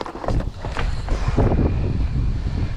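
Gusty wind buffeting the microphone at an outdoor skatepark, a steady low rumble with broadband roar that swells and eases throughout, loud and close, with no talking.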